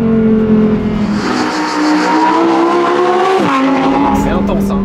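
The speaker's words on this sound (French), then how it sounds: "Oh, la résonance du moteur." Lamborghini Huracan Tecnica V10 engine roaring at high revs, a loud rising howl heard from inside the car that briefly dips as it shifts and then climbs again.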